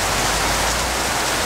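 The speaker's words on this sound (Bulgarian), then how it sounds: "Това тяхно щастие не се помрачава дори от ежедневните супер поройни дъждове." A heavy tropical downpour pours onto a street, a dense, steady, loud hiss of rain filling the whole moment with no voices.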